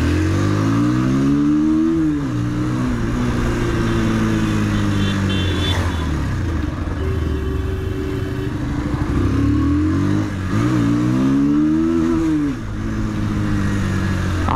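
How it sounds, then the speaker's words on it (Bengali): Engine of a road vehicle ridden in traffic revs hard at high RPM, its droning pitch sweeping up and down in repeated loud surges, close and continuous. "আরপিএম এর সাউন্ড দেখেছো, হু করছে গাইস।"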